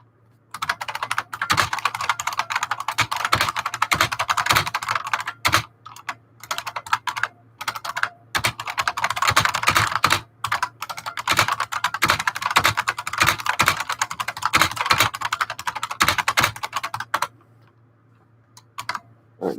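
Fast typing on a computer keyboard, dense bursts of close, crisp key clicks with a few short pauses, over a steady low hum in a quiet room.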